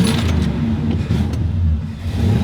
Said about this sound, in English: Peter here says I have to floor it to start the car